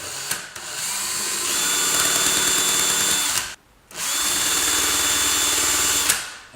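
A powered sharpening wheel hones a swan neck gouge with a loud, steady whirring grind that breaks off briefly once and then resumes.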